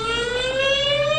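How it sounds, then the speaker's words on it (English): A civil defense warning siren on Guam, one of fifteen placed in low-lying areas, wails steadily and loudly, its pitch rising slowly through a continuous stack of tones with no voices present. "These 15 sirens, all at low-lying areas, would warn the public of an imminent threat."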